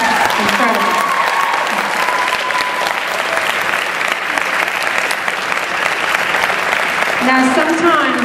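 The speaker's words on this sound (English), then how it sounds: "Please, a big round of applause." A large crowd at the Columbia University Dance Marathon bursts into loud, sustained applause lasting the whole stretch, dense clapping with some cheering and voices mixed in.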